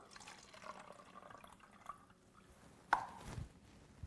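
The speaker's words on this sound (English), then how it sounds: "We pour out the water." Water is poured out from a container of soaked tomatoes, a faint trickling and splashing with a sharper splash and clatter near the middle, fairly close and quiet.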